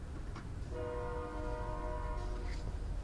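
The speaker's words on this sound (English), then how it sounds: "We're gonna go ahead and wait till that fucking train stops." A passing train sounds a sustained horn over the steady low rumble of the rail cars, loud and fairly close, with no talk.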